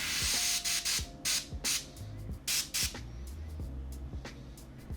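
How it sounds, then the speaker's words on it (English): An airbrush at low pressure, around 20 PSI, sprays paint onto a Warhammer Ork miniature in short, soft hissing bursts held close, separated by brief pauses over a faint background hum. "I'm getting quite close with the airbrush here, and I've got my airbrush on a very low PSI, around 20"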